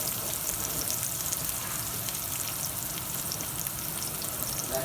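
Chopped onion sizzles steadily in a hot frying pan, a dense, even crackle and hiss that stays loud and close throughout.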